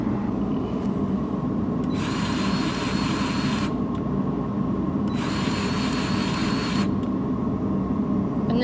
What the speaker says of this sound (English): this is the best grease gun ever